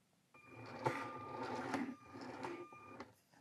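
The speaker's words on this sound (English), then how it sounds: "So the motor's working." Small electric motor of a toy holiday Main Street tram running on test, a steady whir with a thin sustained tone for about three seconds, starting and stopping cleanly, close and fairly quiet.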